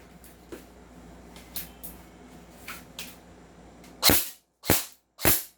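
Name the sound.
M4A1 Medusa Black airsoft gun firing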